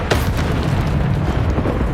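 A Depulsor spell cast in the video game Hogwarts Legacy makes a dense, booming blast that fills the whole moment, loud and continuous with no talk.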